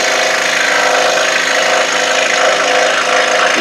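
A scroll saw cuts through wood for a beginner craft project with inside cuts, giving a steady, close buzzing motor drone with a rapid rattling chatter that runs unbroken for the whole stretch, without voices.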